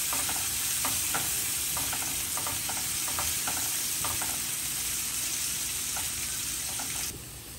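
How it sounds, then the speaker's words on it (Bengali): Chopped onions fry toward golden brown in a pan, a loud continuous sizzle broken by regular stirring scrapes, cutting down abruptly at the end; no one speaks. "ভালো করে গোল্ডেন ব্রাউন করে ফ্রাই করে নিচ্ছি এটা।"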